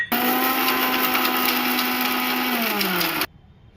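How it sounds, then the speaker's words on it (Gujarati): A mixer grinder whirs loudly while grinding cardamom seeds with sugar for mohanthal, running at a steady high whine for about three seconds and then winding down as it stops. "એટલી ખાંડ નાખી દઈએ એટલે ફટાફટ પીસાઈ જાય"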